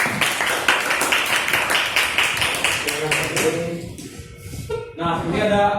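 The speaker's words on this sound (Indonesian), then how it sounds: "Kasih tepuk tangan Kevin dulu" In a classroom lesson, children clap for Kevin in a quick, rhythmic burst of many hand claps that fades after about three seconds, followed by voices speaking.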